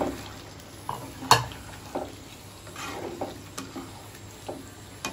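Prawns cooking with elephant foot yam in a pan, a soft sizzle under repeated scraping stirs and clinks from a utensil against the pan, one sharp knock early on.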